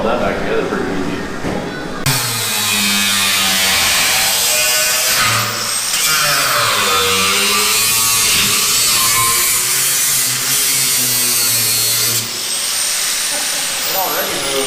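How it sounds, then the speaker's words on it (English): A power tool cuts into square steel tubing on a Model A, giving a loud, continuous grinding whine that starts abruptly and runs for most of the stretch while people talk over it. "You're probably gonna have to cut the square tube."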